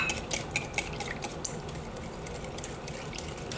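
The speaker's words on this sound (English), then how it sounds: "You really gotta mix it up real good." Key lime pie filling being stirred by hand with a utensil instead of an electric mixer, giving steady scraping and clinking against the bowl in a close, continuous rhythm with no talking.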